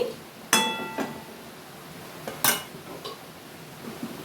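A lid set onto a cooking pot of small-fish chorchori, heard as two close metallic clanks, the first with a short ringing tone, followed by a few lighter taps in a quiet kitchen.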